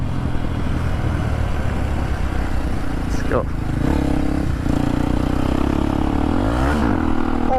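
A Kawasaki KLX230 motorcycle ridden in fourth gear on a commute, a loud continuous engine drone with wind rumble and small pitch shifts as the throttle changes, heard up close from the rider's position, while someone talks over it.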